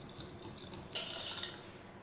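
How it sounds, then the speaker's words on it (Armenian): A spoon scrapes and clinks against a bowl while stirring yogurt, light quiet taps followed by a brief brighter scrape, close and alone. "այսպես մի լավ խառնում ենք"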